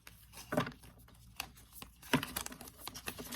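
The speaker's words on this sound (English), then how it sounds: "gonna shuffle just once more here." A deck of tarot cards is shuffled by hand, giving two soft papery riffles and a scattering of light card clicks, quiet and close.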